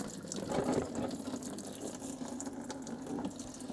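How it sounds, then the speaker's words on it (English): Coolant drains from a disconnected bottom hose on a Triumph Street Triple motorcycle, a steady close trickle and gurgle of liquid running without pause. "letting it drain to empty your coolant"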